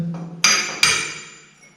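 Two sharp metallic hammer blows about half a second apart during gutter work on a new house build, each ringing out and slowly fading, close and fairly loud.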